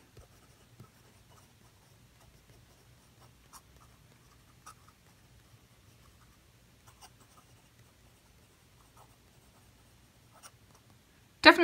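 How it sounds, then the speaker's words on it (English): An Edison Morgan LEA fountain pen writes fast on paper, giving faint, soft scratchy strokes with small ticks and pauses throughout, ending in a sudden louder knock. "Fast writing."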